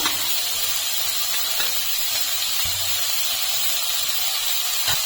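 Capsicum and mixed vegetables with salt fry lightly in a pan for spring roll filling, a steady loud hiss with faint crackle held throughout, a few soft clicks of utensils, no talking.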